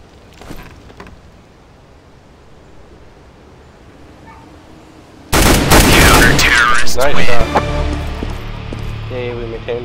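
Counter-Strike GO gunfire on Dust 2, a sudden loud burst of rapid shots after quiet rustling, with players talking over the shooting.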